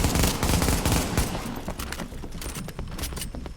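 Gunfire in The Division video game, a loud dense volley of shots up front that thins into scattered, quieter cracks and distant pops.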